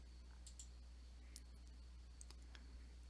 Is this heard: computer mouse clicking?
yes